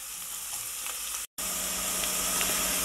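Onions frying in hot oil, a loud continuous sizzle heard close up, with a short silent gap partway through and no talking.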